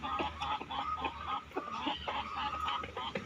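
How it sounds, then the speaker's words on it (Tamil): Several chickens cluck and murmur continuously nearby, overlapping calls with occasional louder squawks over a steady background hum. "இங்கே பாருங்கள், எத்தனை கோழின்னு பாருங்கள்."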